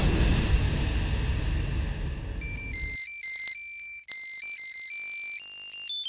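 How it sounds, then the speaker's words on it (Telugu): A phone ringtone in a Telugu TV serial scene: a bright electronic melody of repeating tones starts after a loud hiss cuts off, briefly pauses, then continues clearly and alone. "నాన్న ఇప్పుడు ఫోన్ చేస్తున్నారేంటి?"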